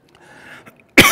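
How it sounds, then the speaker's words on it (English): A single sharp, loud cough at the end, after a faint breathy hum; no speech. "Cough drops make me cough."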